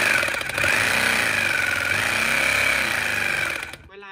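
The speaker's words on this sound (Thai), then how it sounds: "มันก็จะดังประมาณนี้เลยมันจะกระแทกแรงมากนะมันจะกระแทกเป็นแนวตรงนะครับ" A Pumpkin PTT2-26DFR rotary hammer drill hammers loudly and up close in a continuous rapid pounding rattle, then cuts off abruptly near the end.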